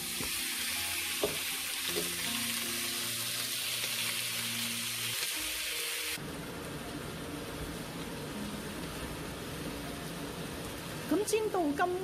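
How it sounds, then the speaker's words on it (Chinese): Pork ribs frying in a pan, a steady dense sizzle and crackle that runs close and fairly loud, thinning to a quieter hiss midway with a few light clinks near the end. "先煎一煎嗰啲排骨。"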